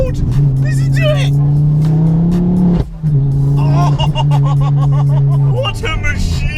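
A loud Ford Focus RS MK2 engine revs hard, holding a strong steady drone with a brief dip and a sharp blip before rising again, while someone talks excitedly over it.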